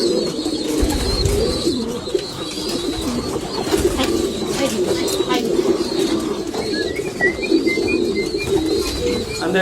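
Pigeons cooing close by, soft repeated throaty coos over a steady background murmur with a few faint chirps, while a person speaks intermittently.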